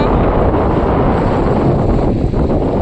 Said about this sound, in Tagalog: sobrang nabasa na ako at napakalakas sobra ng alon dito